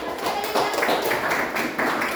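Children in a classroom clap their hands together in a fast, continuous, fairly loud patter of overlapping claps, with some voices mixed in.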